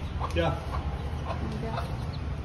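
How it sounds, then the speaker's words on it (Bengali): Chickens just let out of their coop cluck softly and intermittently at close range, under low background noise and people chatting. "মুরগিদের ছাড়া হয়েছে, কেমন লাগছে?"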